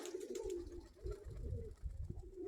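Pigeons from a flock in Zhytomyr Oblast, Ukraine, coo softly and steadily for a moment, with low rustling close by.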